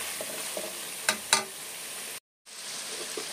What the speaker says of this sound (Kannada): 1-2 ನಿಮಿಷ ಈರುಳ್ಳಿ ಚೆನ್ನಾಗಿ ಫ್ರೈ ಆಗಿದೆ.